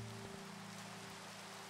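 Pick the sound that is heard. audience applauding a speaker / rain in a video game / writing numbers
rain in a video game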